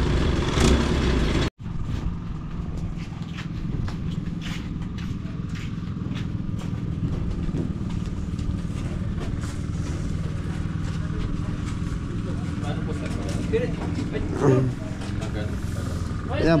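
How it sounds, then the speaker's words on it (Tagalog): Machine engine with a broken propeller and a loosened inner bearing runs steadily with a rough, clattering drone, close and continuous, briefly cutting out near the start while a person talks over it. "Maandar yung makina, umiikot, kaya lang walang kapit sa loob."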